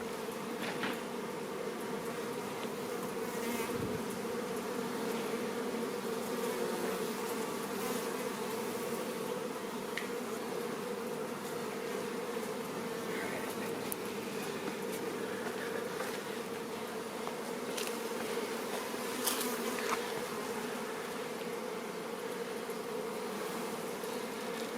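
Honeybees swarm around a beehive opened for the first time late in the season, giving a continuous, even buzzing hum with scattered louder passes of single bees near the microphone.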